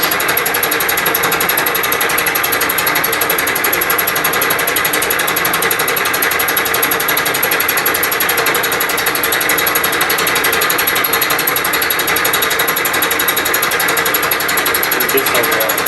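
A Bridgeport milling machine fly cuts metal with a loud, unbroken grinding whir and a thin high ringing tone, steady and close throughout.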